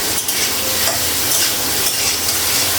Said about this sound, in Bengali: তেল দিলাম ফুলকপিটা লাগিয়েছি ভেজে নিব